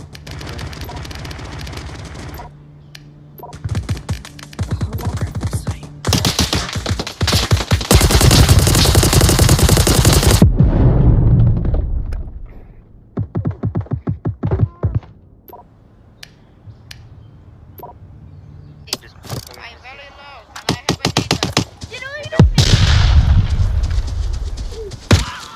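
Loud bursts of rapid automatic gunfire in the VR military shooter Onward, several volleys separated by quieter stretches, with some chirpy tonal sounds in between.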